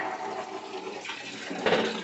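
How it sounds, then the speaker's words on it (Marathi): Water runs steadily from a household tap in a Marathi home, a continuous close hiss that swells briefly near the end as the flow shifts, with no talking. "चला नळ बंद कर बाळा चल बंद कर"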